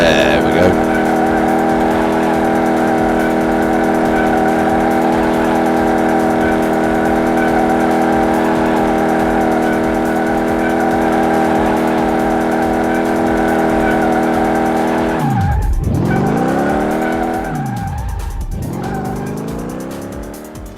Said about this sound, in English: See if it can do a burnout.